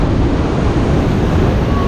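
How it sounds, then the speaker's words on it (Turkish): Heavy ocean surf at a Bali cove where people are surfing: a dense, continuous roar of breaking waves, loud and close, mixed with wind rushing over the microphone. "Acayip bir dalga var şu an."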